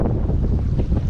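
Strong south wind buffets the microphone at a lake marina where a Bayliner Element boat is about to head out into 1 to 3 ft waves, a loud continuous low roar with gusty swells and water noise beneath it.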